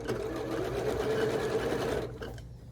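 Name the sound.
sewing machine sewing a pillowcase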